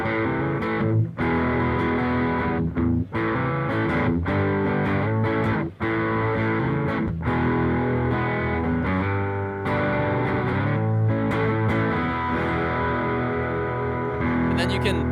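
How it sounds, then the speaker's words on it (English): An electric guitar runs through a Fender overdrive pedal with Deluxe Reverb cabinet simulation. It plays sustained, crunchy distorted chords with brief gaps between strums, loud and thick throughout. "as we blend in the distortion side, you'll start to hear that overdrive with that deluxe reverb cabinet simulation come"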